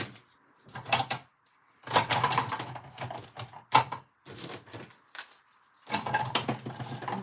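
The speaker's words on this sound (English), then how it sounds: "I think we're ready to cut them out." Scissors cut out paper craft shapes in bursts of crisp snipping and crunching, several clustered runs of close blade clicks separated by short silences, with no talking.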